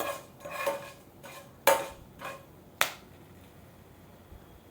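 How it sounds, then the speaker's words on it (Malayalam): A spoon stirs fried chillies and fenugreek seeds in oil for a fish curry, giving a few sharp metallic clicks and scrapes against the pan over a faint quiet sizzle, nearby with no voices. "ഇതിലേക്ക് 1 ടീസ്പൂൺ ഉലുവ കൂടെ ചേർത്ത് കൊടുക്കാം. ഒന്ന് ഇളക്കി കൊടുക്കാം."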